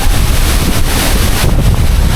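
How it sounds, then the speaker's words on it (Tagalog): Strong wind roars and buffets the microphone continuously, a loud, rough rushing with deep low rumble and no voices. "ang lakas ng hangin"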